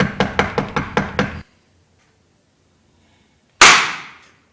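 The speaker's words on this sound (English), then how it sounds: "That was a revolver shot!" A rapid series of seven knocks on a locked door, then after a silent pause a single loud, sharp revolver shot from behind the door that rings out and fades over about a second.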